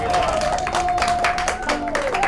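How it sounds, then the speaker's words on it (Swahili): Audience applause and clapping, steady and loud throughout, with music and voices mixed in beneath the clapping. "Makofi basi kwake."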